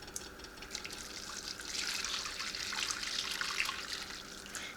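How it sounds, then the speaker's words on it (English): Hot homemade juice for jello pouring from a pan into a glass dish, a steady soft liquid trickle and splash that swells slightly midway and runs continuously without talk. "I'm just going to pour it into my glass dish here"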